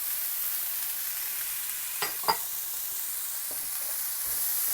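Black chickpeas with mixed vegetables sizzling in a pan, a steady close frying hiss with a couple of brief clinks of stirring.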